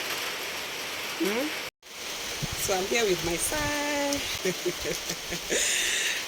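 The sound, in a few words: rain falling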